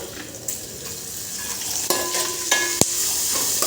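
Spices and curry leaves fry in a pan with a little turmeric for carrot pulihora, a steady close sizzle broken by several sharp metallic taps and scrapes of a spoon against the pan.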